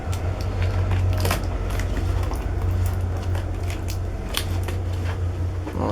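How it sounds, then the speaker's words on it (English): Scissors snipping and cutting through packaging tape and cardboard on the box of a Cooler Master Blizzard T2 Mini CPU cooler, a run of sharp close cuts over a steady low hum. "Careful with your scissors."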